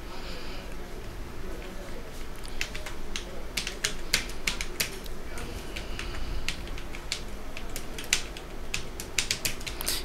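Typing on a computer keyboard into Notepad, irregular bursts of crisp key clicks, sparse at first and then rapid clusters, close under a steady background hum, no voices.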